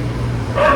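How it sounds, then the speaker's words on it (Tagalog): A neighbor's dog gives a short, close bark, brief and loud against a low steady background hum. "Tapos, sorry sa aso."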